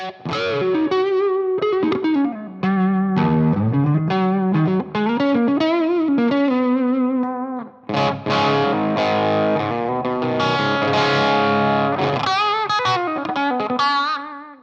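A distorted electric guitar through a Bray Coco 50 amp, volumes low, plays bending notes and then thick sustained chords, the tone gritty and saturated as the amp breaks up, loud and up close.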